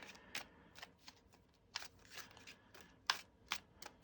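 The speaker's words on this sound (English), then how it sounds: "So we'll do a quick shuffle here" A deck of tarot cards is shuffled quietly up close, with a series of soft, quick riffling snaps coming in uneven bursts against a near-silent background.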